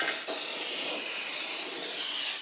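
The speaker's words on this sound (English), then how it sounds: "Bit of silicone spray never hurt anybody" Silicone spray hisses steadily from an aerosol can onto the tire bead of a Kawasaki KLR650 dual-sport motorcycle during a tire change, a close, continuous spray lasting a couple of seconds after a brief pause.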